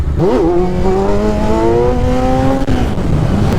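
A Kawasaki Z1000 motorcycle engine, full power at 140 hp, revs up hard, its pitch climbing steadily for a few seconds before cutting back, loud and close with steady background noise.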